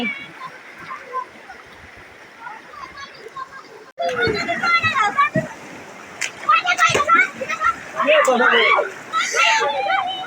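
Water of a flowing stream splashes and gurgles at close range, quiet at first then louder, while children play and shout excitedly over it.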